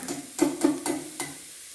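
Four or five short scraping strokes of a spoon through thick chicken biryani masala mixed with curd in a pressure cooker, evenly spaced and fairly close, with a faint sizzle beneath and no talk.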